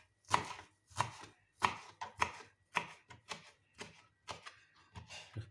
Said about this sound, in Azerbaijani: Aşağı tərəfini balaca doğradıqdan sonra yuxarı tərəfini böyük də təbii ki doğraya bilərsiniz